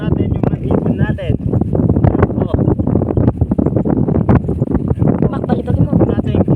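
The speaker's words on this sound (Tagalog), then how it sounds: "Medyo malakas yung hangin." Strong wind rumbles and buffets the microphone outdoors while pigeons are released, a person talking loudly over it throughout.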